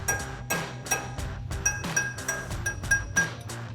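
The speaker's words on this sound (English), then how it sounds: "take a chisel and get it right in between the gap there, and then take a hammer" A hammer strikes a chisel in quick, repeated taps to pop a cap off a front CV axle shaft on a Toyota Tacoma, each hit ringing with a bright, close clink, steady and rhythmic with no talking.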